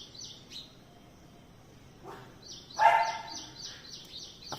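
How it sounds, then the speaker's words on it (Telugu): Small birds near their nest chirp in short, high, repeated bursts, fairly close, with a quiet background and one louder call in the middle. "అవి చూడండి ఒకసారి. పిట్టలు ఎక్కడ పెట్టినాయా గూడు."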